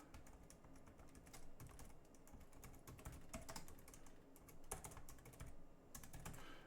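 Rapid clicking of a computer keyboard being typed on, steady irregular keystrokes at close range with no talking, while entering a ghost token into a Vitruvian Machine: Corpus Versum game.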